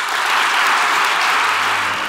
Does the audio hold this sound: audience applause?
yes